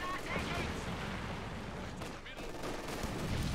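Dense battle din in the video game Company of Heroes 2, with light machine gun fire from Grenadiers rattling continuously amid other gunfire and explosions, loud and sustained under a commentator's voice.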